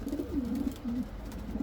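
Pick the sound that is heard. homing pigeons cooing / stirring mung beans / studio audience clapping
homing pigeons cooing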